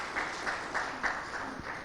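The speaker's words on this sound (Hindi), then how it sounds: "मैं सभी लोगों से कहूंगा कि एक बार तालियां बजाकर उनका स्वागत करें।" Audience applause welcoming information commissioner and writer Uday Mahurkar at a televised forum, a steady wash of clapping with a few rhythmic peaks, moderately loud and without talk.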